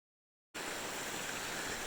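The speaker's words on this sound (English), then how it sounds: "Especially when the creek crossings are pretty easy like this one." Steady rushing of creek water at an easy trail crossing on the Appalachian Trail, a broad even hiss that begins abruptly after a short silence and continues close and constant, with no talking.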